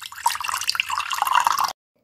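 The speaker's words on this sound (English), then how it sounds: "Always close the tap while brushing your teeth." Water running from a tap in a cartoon alphabet scene, a steady splashing gush close by that stops abruptly after under two seconds.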